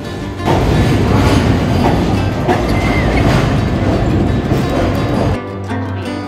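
A WAG9 electric locomotive from Aligarh shed hauls a fully loaded freight train past at close range, a loud steady rumble with clattering wagons that cuts off abruptly near the end.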